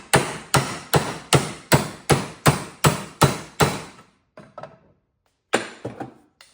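A car part from a 1966 Monaco struck hard against rubber to seat it, about nine loud, evenly spaced thuds followed by a few lighter knocks after a pause.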